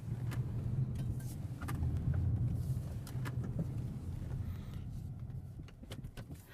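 An SUV weaving a serpentine course through cones, a low steady engine and road rumble heard from inside the cabin, with faint rattles and clicks over it.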